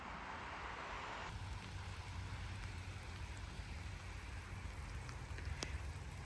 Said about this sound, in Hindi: सिर्फ बारिश का शोर होता है